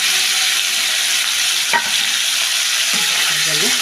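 Tomatoes go into a curry in a frying pan, which gives a loud, continuous sizzle and crackle with one sharp clink of a utensil partway through and faint stirring near the end, with no speech.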